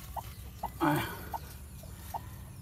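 A bantam hen clucking in short soft bursts spaced about half a second apart, with one louder squawk early on, fairly close against quiet background.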